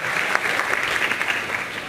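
Steady audience clapping at an awards ceremony honouring creators, a dense, even patter of many hands throughout the short stretch with no voices on top.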